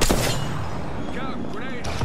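Apex Legends gunfire comes as a loud opening burst of shots, followed by a busy mix of combat noise with game voice-like sounds rising and falling under it.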